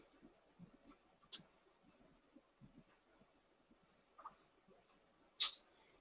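Quiet, sparse clicks from a computer keyboard in a room during an online library commission presentation, with a few sharper taps standing out over low background hiss and no talk.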